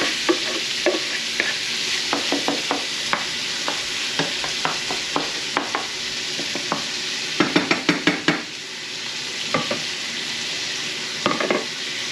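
Corn kernels fry in olive oil over high heat, a steady broadband sizzle punctuated by repeated clinks and scrapes of a utensil stirring against the pan, with clusters of quick taps near the end.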